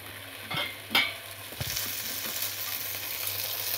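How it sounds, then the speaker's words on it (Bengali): Water spinach greens fry in a hot pan with a steady sizzle, broken by a few sharp knocks and scrapes of a stirring spoon, close up and with no talk. "এবার খানিকক্ষণ ভাজা করে নেব শাকটাকে, নাড়াচাড়া করে।"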